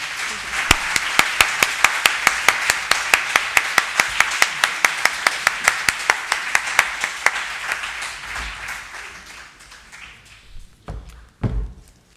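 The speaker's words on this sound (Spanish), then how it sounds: "Voy a pedir, por favor, un último aplauso a todos los ponentes y la ponenta" Conference audience at a multiple sclerosis forum clapping for the speakers, a steady run of crisp, rhythmic claps that fades out, with a couple of final louder claps trailing at the end.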